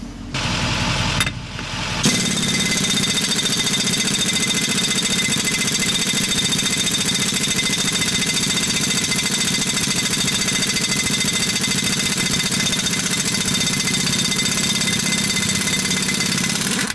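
An air impact wrench driven by a Harbor Freight Fortress 5-gallon 225 PSI air compressor hammers loudly and continuously after a short start, with a steady rattling drone close up.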